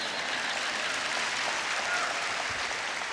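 A school district convocation audience claps continuously, a dense, even wash of applause that holds steady at full strength from start to finish.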